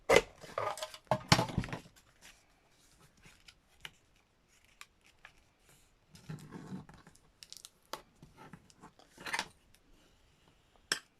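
Scissors cutting paper strips in quiet, irregular bursts of crisp snips and rustles, busiest at the start, with scattered softer cuts and pauses afterward.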